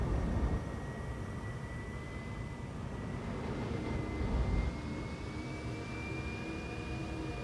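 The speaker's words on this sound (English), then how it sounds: "Deploying landing gear." A spacecraft's landing gear deploys during a landing sequence in a flight game, a low, steady jet-like engine rumble with a faint rising whine, heard alone at moderate volume.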